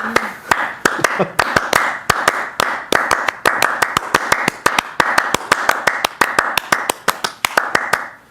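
Three people perform Clapping Music by hand, sharp interlocking claps striking in a fast, steady rhythm throughout, close and loud, with brief talk near the start.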